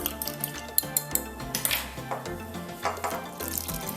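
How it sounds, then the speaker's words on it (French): A spatula stirs liquid into flour in a bowl while pastry dough for a chicken and vegetable pot pie is mixed. Close, repeated scraping and clinking strokes come against a quiet kitchen background. "À l'aide de la spatule, on fait juste virer pour intégrer le liquide à la farine."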